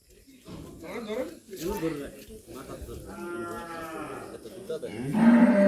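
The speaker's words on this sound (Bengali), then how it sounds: "দেখি আমাদের গরু কি করতেছে" Cattle bought for Eid sacrifice low and moo outdoors in a village yard, several drawn-out calls rising over steady chatter from nearby people, the loudest bellow coming at the end.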